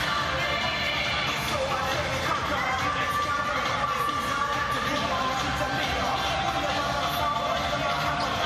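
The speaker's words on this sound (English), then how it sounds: "Very appreciative crowd here at the Yeomju Gymnasium in Gwangju in Korea" Crowd cheering and shouting fills Yeomju Gymnasium in Gwangju, Korea, during a basketball championship game at the 2015 Universiade, Kansas against Germany, a steady dense roar with yells throughout.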